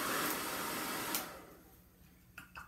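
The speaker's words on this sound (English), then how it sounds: "I'm going to hit this with a hair dryer" Steady broadband blowing roar of a hair dryer running close, then it switches off, leaving quiet room noise and a couple of brief clicks.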